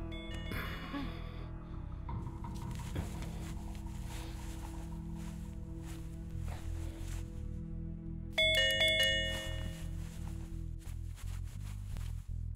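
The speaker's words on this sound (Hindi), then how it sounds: "तेरे घर ये कॉलिंग बेल बजाई, कोई दरवाजा नहीं खोला।" Doorbell rung at a house door in a South Indian Hindi-dubbed film: a bright electronic ding-dong chime sounds once past the midpoint, ringing out over a continuous low background music score, with no talk.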